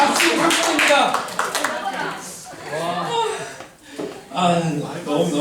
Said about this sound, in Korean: 30대만 지금 박수 치잖아요